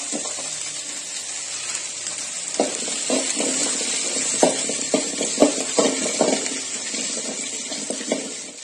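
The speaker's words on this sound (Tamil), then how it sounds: "நல்லா வதங்கி பொன்னிறமா வாரம் வரைக்கும் நம்ம இதை நல்லா வதக்கி எடுக்கணும்." Onions and garlic sauté in a pan while being stirred for a homemade chicken gravy, giving a steady broad sizzle with a run of sharper clinks and scrapes in the middle. The sound is moderately close and has no talk over it.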